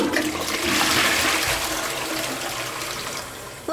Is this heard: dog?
no